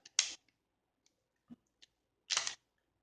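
A Glock 19 magazine is inserted into a Glock 26 Gen3 9mm pistol, giving two sharp broadband clicks and a few faint small ticks of handling, close up in a quiet room with no talking.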